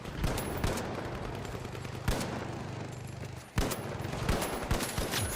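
Semi-automatic gunfire in a video game, with several separate sharp shots spaced a second or more apart, heard close and loud over a steady layer of game background noise.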